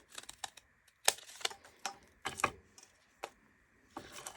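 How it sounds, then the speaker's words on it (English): Scissors snipping paper for a handmade miniature vintage-style journal, a run of short, close, crisp cuts in irregular bursts with quiet pauses between them. "Then I basically just got my scissors and cut like this."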